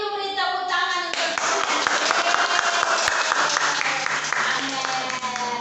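Children in an online Sunday school clap together in an even, sustained burst, with a musical backing and voices mixed underneath.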